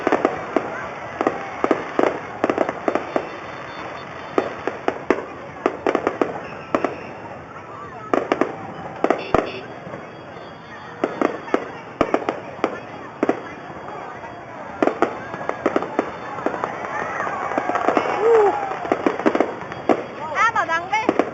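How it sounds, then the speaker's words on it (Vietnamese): Fireworks burst repeatedly at a Mid-Autumn festival, sharp cracks and pops coming in irregular clusters across the whole stretch, with people chatting throughout. "Em lên trên tầng xem pháo hoa."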